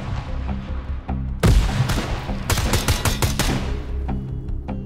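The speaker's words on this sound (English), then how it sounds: "I'm sending a grenade down. Grenade going out." A grenade blast in the tactical shooter Ground Branch, a loud sudden boom that cuts through steady background noise, followed by a cluster of sharp bursts of gunfire and fading rumble.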